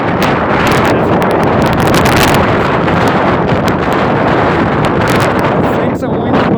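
Strong hurricane wind during Hurricane Delta buffets the microphone in a loud, steady roar that stays constant the whole time, with no distinct other sounds standing out.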